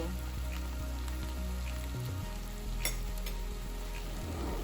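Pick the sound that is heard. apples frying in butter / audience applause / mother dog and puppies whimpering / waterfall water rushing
apples frying in butter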